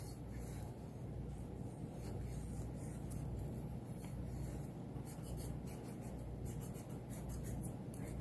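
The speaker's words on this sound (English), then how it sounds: "By using the plastic ballpoint pen, it makes just a little bit less sound. More of a scratchy sound instead." A plastic ballpoint pen scratches steadily across paper for several seconds, a continuous close, dry rubbing texture with no talking.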